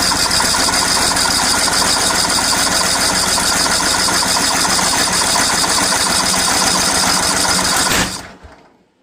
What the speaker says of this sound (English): Let me try to start it while I'm recording. Choke is on. And this one's going to be loud.